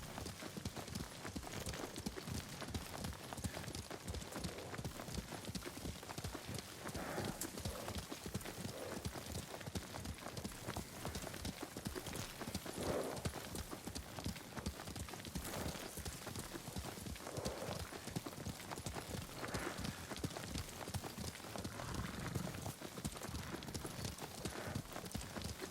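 A horse's hooves clip-clop at a steady, continuous gait while riding in Ghost of Tsushima. The hoofbeats are close and even throughout, with a possible faint whinny.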